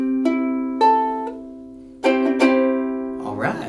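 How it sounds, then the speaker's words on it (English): A freshly tuned ukulele is played alone, a short run of plucked and strummed chords ringing clearly with steady decay, ending in a brief burst of softer scraping noise. "your ukulele should sound like this"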